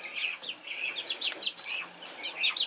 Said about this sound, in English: There's a quick shot of the eBay chicks.